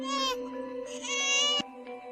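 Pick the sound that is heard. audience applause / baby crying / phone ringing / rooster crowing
baby crying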